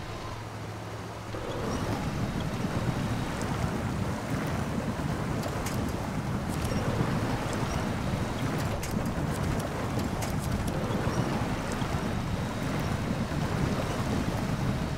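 Heavy truck driving through water in Snowrunner on a snowy North Port, Alaska map, a steady broadband splashing and sloshing rush with low engine rumble, loud and continuous after a quieter first second.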